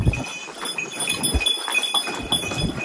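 Mules, horse-donkey hybrids, moving along a path in Santorini, Greece, with scattered hoof clops and faint animal sounds over steady outdoor background noise.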